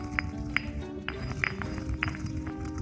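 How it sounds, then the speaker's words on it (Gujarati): Ingredients being pounded in a large marble mortar for rice kheer, a steady series of sharp, bright clinking strikes about every half second, close and fairly quiet against a constant low background hum. "આપણે આ છે ને માર્બલની ખાયણીમાં ખાંડવાનો ઉપયોગ કરીએ છીએ"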